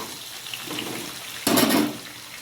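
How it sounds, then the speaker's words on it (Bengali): Vegetables frying in a pan for khichuri, a brief loud sizzling hiss bursting up near the end after a quiet stretch of faint kitchen noise. "সবজিগুলোকে আমি এবার খুব ভালো করে একটু ভেজে নেব।"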